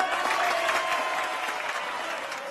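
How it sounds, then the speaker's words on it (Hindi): An audience applauds a film dialogue, a dense, sustained clatter of many hands clapping at once, steady and fairly loud throughout, gradually thinning slightly toward the end. "हर डायलॉग पे ताली बजा रहे हैं"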